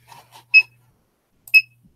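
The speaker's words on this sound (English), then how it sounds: "There's that beeping I was waiting for." An electronic alarm gives two short, sharp beeps about a second apart, with faint murmuring just before the first.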